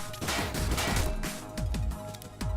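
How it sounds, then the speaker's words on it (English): A machine gunner fires in the tactical game Frozen Synapse: rapid bursts of close, loud gunfire crack in quick succession, with several sharp shots standing out over a continuous rattle. "Let's see where my machine gunner was trying to shoot at exactly"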